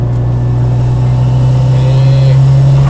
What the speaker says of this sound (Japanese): タービンの音というかこの吸気音すごいですねこれ